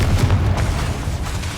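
A Confringo fire spell explodes in the video game Hogwarts Legacy as one loud, low, rumbling boom that fills the short moment and fades slowly, with no voice over it.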